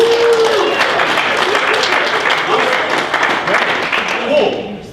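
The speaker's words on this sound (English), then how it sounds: "Give yourself a round of applause." Students at a leadership event applaud together in a sustained, dense burst of clapping that fills the room, tapering slightly toward the end, with a voice briefly rising over the crowd.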